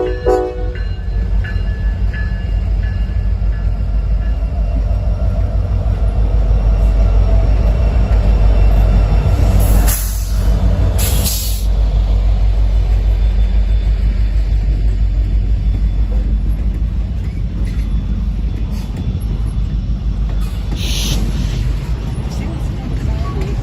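A freight train led by an SD60E locomotive with two ACE units passes near Ayer, Massachusetts, a steady loud rumble of engines and wheels throughout, with two short horn blasts around the middle and another near the end.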